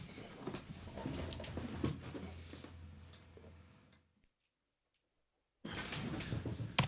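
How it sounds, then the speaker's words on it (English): A sine sweep played through a guitar cabinet and recorded, heard as a faint tone under room noise that fades out into near silence before a louder burst returns at the end. "This is what the sweep will sound like through the cab."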